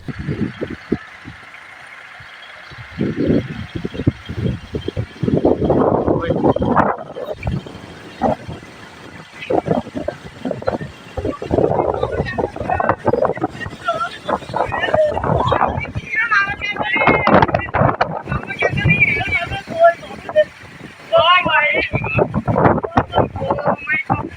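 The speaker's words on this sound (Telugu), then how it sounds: "ఇక గండేపల్లి పెట్రోల్ బంక్ వద్ద సుడిగాలి బీభత్సం చేసింది." A whirlwind at a roadside petrol station roars in strong, gusty bursts that buffet the microphone almost continuously, loud and rough.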